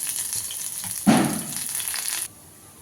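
Mustard seeds and onions fry in hot oil, with a sudden loud sizzling burst as they hit the pan that holds as a steady hiss, then drops away sharply near the end.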